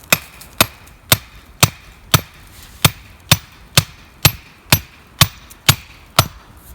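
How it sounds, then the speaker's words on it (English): Multi-tool hammer head striking a camping stake, a dozen sharp evenly spaced blows about every half second, loud and close with no talk. "just so you can see how the hammer works"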